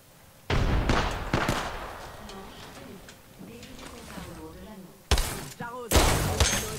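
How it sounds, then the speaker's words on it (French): A frag grenade explodes in the Apex Legends video game, with sharp, loud blasts at the start and again near the end, amid crackling gunfire and someone talking throughout. "Grenade frag lancée"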